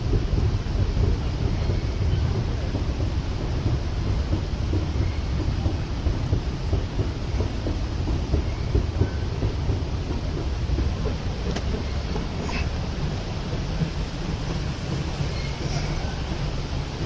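A steady, heavy low rumble with rattling and wind buffeting as a train crosses Letchworth Bridge, rolling past close by for the whole stretch.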